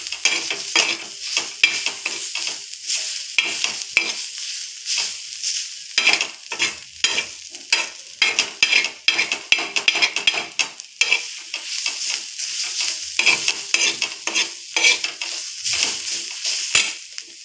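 Sliced onion, fried until reddish-brown, sizzles steadily in a pan while a utensil scrapes and stirs it in irregular strokes, with occasional clinks against the metal.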